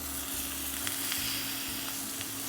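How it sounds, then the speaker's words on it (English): Steady, crackling sizzle of ribeye steak frying in a hot pan, continuous and close, with a low hum underneath and no voices. "that sizzling noise"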